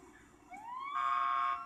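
A police car siren inside a video game rises in a single rising wail that then holds steady and bright, fairly faint and heard alone over a quiet background.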